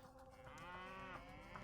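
Cow mooing in the Age of Mythology strategy game, a single drawn-out low moo with wavering pitch, clear and near over faint game ambience.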